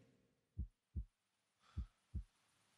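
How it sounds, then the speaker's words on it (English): Heartbeat effect in the Medusa's Labyrinth video game: four low, thumping beats in two paired double pulses, clear and close against a faint background hum. "You hear the heartbeat?"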